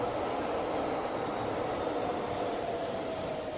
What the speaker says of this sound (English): This is the subway on Spanish steps.